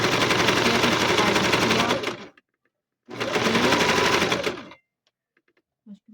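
A sewing machine stitches a quilt in two fast, loud bursts of rapid mechanical rattling, each about two seconds long, separated by a short silence.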